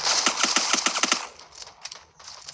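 Rapid automatic gunfire from a 2v2 headshot shooting video game cracks out in a tight, evenly spaced burst of about eight shots. Fainter scattered shots and game sounds follow.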